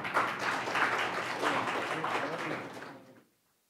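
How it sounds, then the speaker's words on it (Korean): An audience at a Korean National Assembly policy forum applauds to welcome a speaker, dense steady clapping from a sizable crowd that fades out at the end. "박수로 좀 모셔보겠습니다."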